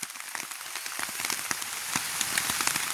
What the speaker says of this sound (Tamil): மழை பெய்கிறபடியாக தென்னை மரமெல்லாம் சிரிக்குது